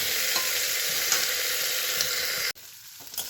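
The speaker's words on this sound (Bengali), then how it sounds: "এখানে পেঁয়াজ আর রসুন একটু দিয়েছি, দিয়ে ভাজা ভাজা করছি" Onion and garlic fry in oil with a loud, steady hiss and occasional light crackles, then the sound cuts abruptly and continues more faintly with a soft knock at the end.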